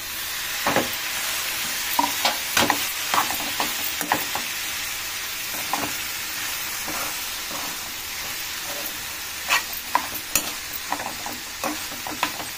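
Tomatoes frying in a curry pan while being stirred, with a steady sizzle and repeated close scraping stirs and clinks of the spoon against the pan.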